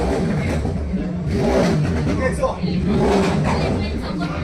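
Motorcycles rumble and rev at a World Motorcycle Day bikers' event during a slow race. The engines swell and ease in moderate bursts under loud, continuous talk from people nearby.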